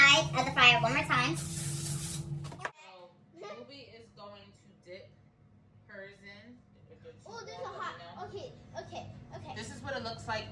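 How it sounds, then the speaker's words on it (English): A short hissing spray of cooking oil inside an air fryer bursts for about a second, close by, surrounded by talking before and after. "So I'm gonna spray the inside of the fryer one more time."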